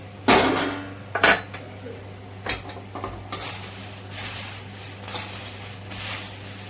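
Crisp corn chivda (makka chivda) tossed in a pan, with several sharp metallic scrapes and clanks of a spoon against the pan early on, then softer rustling stirs.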